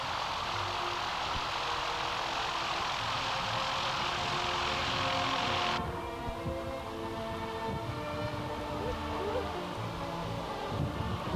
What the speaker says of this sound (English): Cub taxiing in while an Oster, I think it is, no, Cessna 172 landing behind.